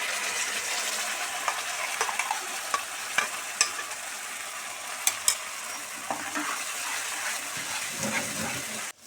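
Garlic, onion and ginger paste sizzles steadily in a hot pan, a continuous frying hiss with a few sharp crackles and spatters along the way.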